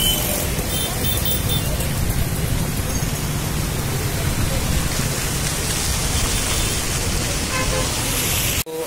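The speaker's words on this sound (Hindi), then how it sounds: "और अभी भी बारिश हो रही है" Heavy monsoon rain pours down steadily in Rajkot, Gujarat, India, during a day with 17 inches of rainfall. The dense, hissing wash is joined by street traffic and an occasional horn, and it cuts off abruptly at the end.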